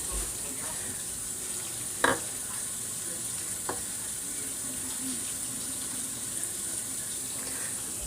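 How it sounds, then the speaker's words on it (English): Water pours from a tap or jug into a pot of pot roast, a steady soft rushing stream under a quiet kitchen background, with a couple of brief clinks near the start. "Now we need to add the water to it."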